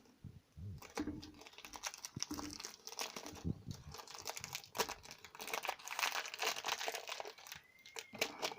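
Crinkly plastic wrapper of a trading card pack being torn and pulled open, a dense stream of close crackling, rustling and ripping across the whole stretch, with a brief voice near the start.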